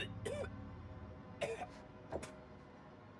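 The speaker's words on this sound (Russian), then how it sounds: "Нехороший кашель." A man coughs in the horror video game House of Ashes, giving three short, harsh bursts spaced about a second apart over a low, steady game ambience.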